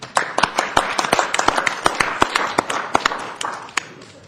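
Applause for police officers at a city council meeting: a small group clapping in a brisk, uneven patter of sharp claps that holds steady for several seconds, moderately close in a room.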